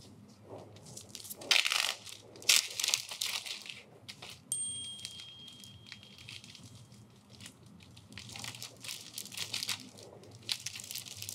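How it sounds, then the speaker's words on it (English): Plastic bag crinkling and crunching as a folded damp paper towel is tucked flat inside, with louder crackling bursts early on and quieter rustling throughout, close up with no talking. "you want to tuck it flat into the plastic bag"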